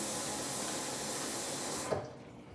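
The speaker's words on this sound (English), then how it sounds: "the packet has a little line of how far to fill up the water" Tap water runs steadily into a pancake mix packet, a close, broadband rushing that cuts off abruptly near the end, leaving a quiet room.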